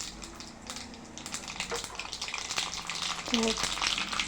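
Tempering spices for pulihora crackle and pop in hot oil, sharp bursts over a steady sizzle, with faint stirring and clinks nearby.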